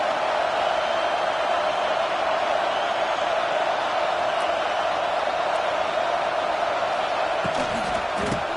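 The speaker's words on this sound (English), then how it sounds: "The Buckeye crowd alive on third down." A dense, steady roar from the Buckeye stadium crowd in a college football video game, with cheering that stays loud and constant for the whole stretch.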